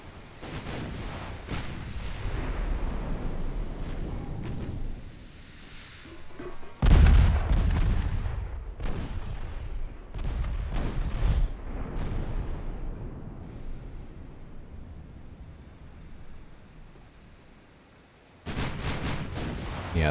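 Heavy 6-inch naval guns fire repeatedly in the Ultimate Admiral Dreadnoughts warship game during a WWII-era Ottoman campaign battle against French ships, with deep booms recurring at irregular intervals and rumbling aftermath between salvos.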